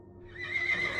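A horse whinnies in a rising, drawn-out neigh while hooves clatter on a wooden porch, close and fairly quiet, with no voices.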